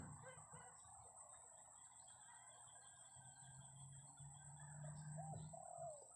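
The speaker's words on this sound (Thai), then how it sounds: "เดี๋ยวตันยังขันอยู่ครับ" A male decoy jungle fowl crows in the distance over steady insect hum and chirping birds, one drawn-out crow rising near the end.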